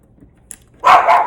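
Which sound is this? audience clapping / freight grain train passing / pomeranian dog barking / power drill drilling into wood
pomeranian dog barking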